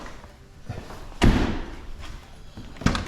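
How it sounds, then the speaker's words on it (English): A car door on a project car slams shut with one solid, heavy thud, followed by a lighter second thump a moment later amid quiet rustling. "By the way, I love the way these doors close."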